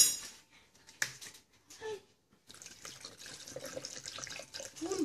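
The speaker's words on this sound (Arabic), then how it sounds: "وراح نضيف الماء." Water from a tap is added for homemade orange and carrot juice, with a faint splash and clink at first, then a steady low trickle filling a container.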